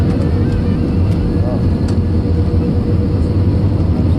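Steady engine and air roar inside an Indigo airliner cabin on final approach to landing at Pune, a loud continuous drone heard close up and alone.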